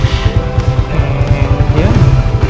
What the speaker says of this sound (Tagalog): So fire up na natin yung engine ng ating Raider Fi.